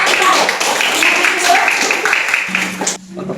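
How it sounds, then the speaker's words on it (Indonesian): A classroom of pupils claps for a group of classmates, a brisk burst of hand clapping that fades out near the end, with a voice speaking over it. "tepuk tangan untuk kelompok"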